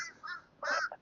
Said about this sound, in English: The crows are joining us today